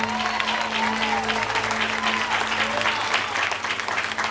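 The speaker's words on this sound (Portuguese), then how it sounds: "uma linda salva de palmas" A church congregation bursts into sustained applause, dense steady clapping that fills the room from start to finish with a low hum underneath.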